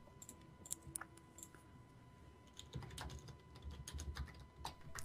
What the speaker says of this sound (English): Sorry if you can hear typing,